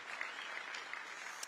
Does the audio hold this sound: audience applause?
yes